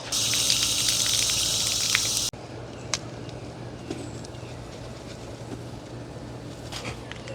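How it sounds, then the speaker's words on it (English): Water gushes briefly over the roots of a pepper plant to rinse off soil for a hydroponic system, then cuts off abruptly, leaving a low steady pump hum and a few faint clicks. "Now we will rinse off this dirt since he won't need that."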